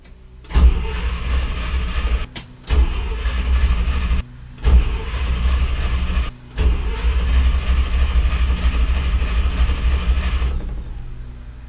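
A 1964 International Harvester Travelall engine cranks and catches several times, each start broken by brief cutoffs, then settles into a loud, steady idle close by before fading at the end.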